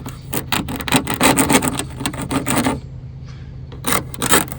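Repeated rasping strokes of a fine-edged old Pampered Chef plastic scraper worked hard over a surface, a rapid loud series of scrapes, a short pause, then a few more strokes.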